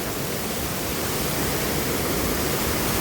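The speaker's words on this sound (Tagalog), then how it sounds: "Lagaslas ng tubig." A river rushes steadily, giving a loud, broad, unbroken hiss of flowing water heard close by with no voices over it.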